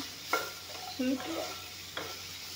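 Vegetable stalks fry in a pan with a soft, steady sizzle, broken by a few scraping stirs of a spoon or spatula.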